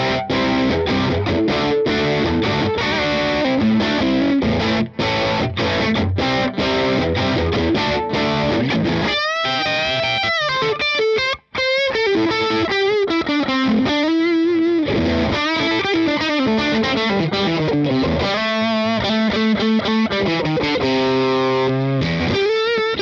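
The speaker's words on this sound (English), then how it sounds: "Let's see what it sounds like with the gain up on full." Heavily distorted electric guitar through a Hughes and Kettner Spirit Nano amp at full gain, loud and saturated, fast chugging riffs giving way to sustained bending lead notes, thick and continuous without pause.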